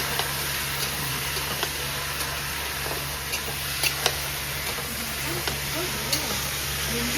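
Meat and onions frying in a pan at a homemade hotel kitchen, a steady soft sizzle running throughout, with faint stirring clicks and occasional voices in the background.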